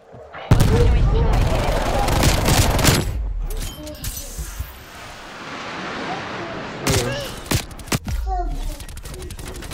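Grenade launcher and gunfire in a Call of Duty Black Ops Cold War multiplayer match, with repeated loud blasts and bursts over a busy battle backdrop, spaced through the clip.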